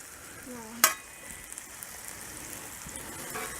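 Onions fry on a Blackstone griddle with a soft steady sizzle, and a spatula scrapes as they are stirred, marked by one sharp metallic clank near the start.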